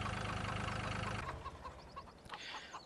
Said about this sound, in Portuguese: Vamos ver o que o Galo José andou fazendo aqui com as galinhas